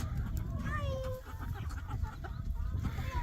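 Chickens cluck and squawk in a farmyard during morning chores, a few short rising calls standing out over a busy, rumbling background with faint voices.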